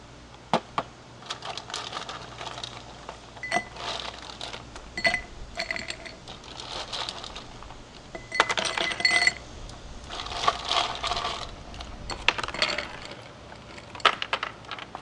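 Ice cubes clink and rattle into a glass in scattered bursts, sharp and close, with brief pauses between the drops.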